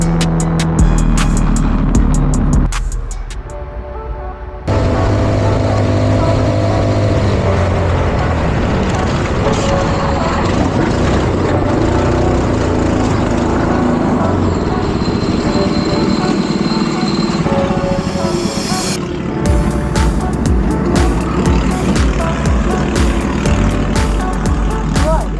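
Race vehicles on a wet track during a rainy GX-UK Macey Cup race day, with a steady loud roar of engines throughout, a brief dip around the fourth second, then continuous rumbling motor noise up to a crash.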